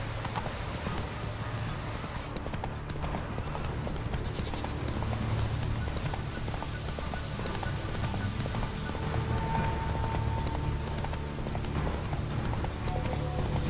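Roach, the horse in The Witcher 3 game, gallops with fast, continuous hoofbeats close up, a faint whinny amid the running and a voice talking over it at times.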